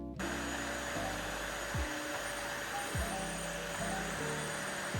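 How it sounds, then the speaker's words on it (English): A small corded vacuum cleaner runs in a studio apartment, a steady close whirring hum with several brief pitch swoops as it is pushed and pulled across the floor. "I pulled out my small but mighty vacuum to vacuum down my whole place."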